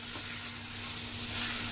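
Vegetables and spices frying in a pan make a brief, steady, close-up sizzle that swells slightly near the end, with no talking.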